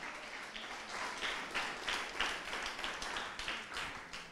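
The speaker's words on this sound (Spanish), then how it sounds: "Alguien que aplauda el nombre de Jesús" A church congregation clapping together in a steady, rhythmic beat, a continuous crowd sound filling the room with little talk.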